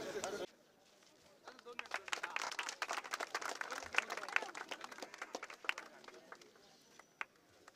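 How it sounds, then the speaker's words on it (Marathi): Crowd at an Independence Day felicitation gathering claps to welcome an honoree, a former soldier; dense scattered hand claps build after a brief spoken moment, moderately distant and steady before tapering off. "तर कृपया सर्वांनी त्याच्या टाळ्या वाजवून स्वागत करावं"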